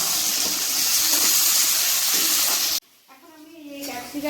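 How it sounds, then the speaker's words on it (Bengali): Green beans and capsicum fry in a pan with a steady, loud sizzle for nearly three seconds, then it cuts off abruptly and a quieter stretch with faint clatter follows. "প্রথমে বিনসটা ভেজে দিয়ে দেবো আর ক্যাপসিকাম এই দুটো একটু অল্প অল্প করে ভেজে নেবো"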